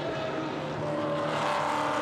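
A Lotus Evora GT4 race car passes at Misano circuit, a sustained loud engine drone with a rising tone as it goes by.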